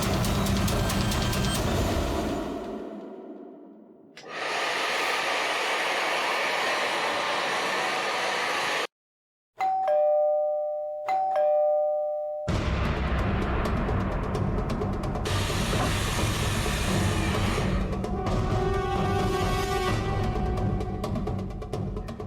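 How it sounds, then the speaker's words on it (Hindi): A two-tone electronic doorbell chime rings clearly over a loud, continuous blowing hum like a hair dryer and air conditioner. "एसी और हेयर ड्रायर की आवाज के ऊपर भी बेल की आवाज साफ सुनाई दे रही है।"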